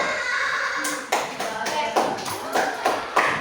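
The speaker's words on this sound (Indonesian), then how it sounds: "Tepuk tangan untuk kelompok 1." A class of fifth-grade schoolchildren claps in a short burst of scattered applause, with uneven hand claps bunched together in a classroom.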